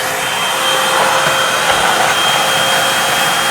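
A Eureka 3-in-1 vacuum cleaner runs continuously on a floor, a loud, close, steady motor roar with airy suction hiss throughout and no speech.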